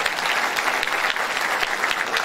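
Steady, dense applause from a concert audience welcomes a student onto the stage at a Turkish folk music choir's spring concert, a continuous wash of clapping hands throughout.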